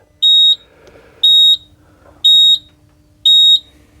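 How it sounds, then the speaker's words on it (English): Four loud, high-pitched electronic beeps from a New Holland Workmaster 40 compact tractor's warning beeper sound at an even pace, each lasting about a third of a second with quiet gaps between. "This thing beeps loud."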